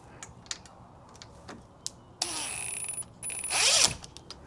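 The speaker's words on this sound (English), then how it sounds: "And screw that in the bottom. Snug it up." Screw being driven and snugged into a patio door lock, beginning with scattered light clicks and taps, then two close bursts of ratcheting, rattling mechanical clicks that grow louder toward the end.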